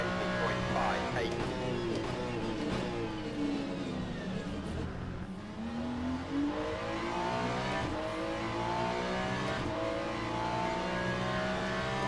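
GT3 race car engine in Le Mans Ultimate, a steady loud roar running through the whole stretch with rising and falling pitch as the car revs through gears, interrupted by shifts and a brief dip mid-way, with a voice talking over it.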